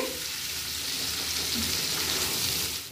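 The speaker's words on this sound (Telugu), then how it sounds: "ఇలా గోల్డెన్ బ్రౌన్ కలర్ వచ్చే వరకు ఫ్రై చేసుకోవాలి." Baby potatoes frying in hot oil in a pan, a steady dense sizzle that holds at an even loud level throughout, with faint stirring underneath.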